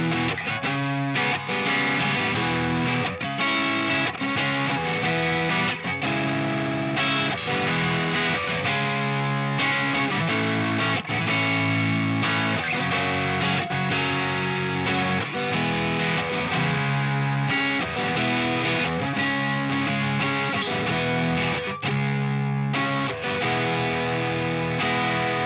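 An electric guitar through a Boss SD-1 overdrive pedal plays continuously, thick distorted chords and riffs with sustained gritty tone, loud and close without any talking.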